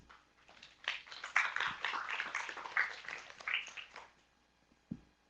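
An audience at a conference welcomes a speaker with applause, a moderate, evenly spread clapping that builds, holds for a few seconds at some distance in a hall, then dies away, ending with a lone thud.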